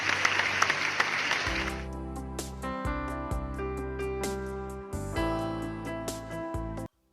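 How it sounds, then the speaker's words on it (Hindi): A church congregation at a Hindi midweek service applauds briefly to welcome a speaker, then steady music with a rhythmic beat carries on to the end. "हम जोरदार ताली बजा के स्वागत करेंगे हमारे गवाह का"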